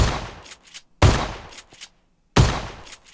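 Three loud, sharp gunshots in PUBG Mobile, spaced unevenly and each followed by a fast decay and small clinking after-sounds.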